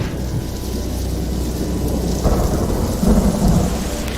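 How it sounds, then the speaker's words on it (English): Thunder rolls low and heavy over steady falling rain, the rumble swelling in two louder surges near the end while the rain hiss continues underneath; no one speaks. "There is thundering and all."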